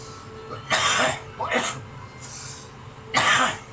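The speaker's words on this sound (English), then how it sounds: "Sorry about the coughing," Several harsh coughs in separate bursts, a double cough early, another pair mid-way, and a final loud cough, close to the mic with quiet between.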